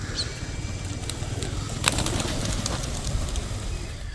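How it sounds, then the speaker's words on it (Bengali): A flock of pigeons gathers around a tower near Haralur Lake in Bangalore, giving a close, continuous murmur of cooing with bursts of wing flapping. "কবুতরের দল যদি দেখতে হয়, মা গো, শুধু এখানে না, এই যে এই টাওয়ার জুড়েও রয়েছে।"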